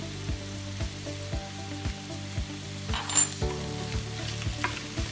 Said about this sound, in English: We're going to let that saute as well.